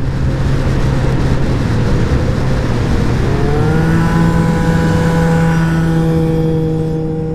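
Yamaha Zest 80 cc scooter accelerating hard, its engine note climbing steadily in pitch with rising harmonics over continuous loud wind and road rush, close to the rider.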